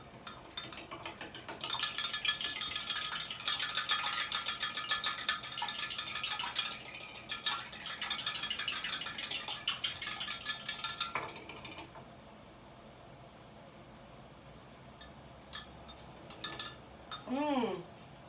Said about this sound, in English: Let me whisk this up.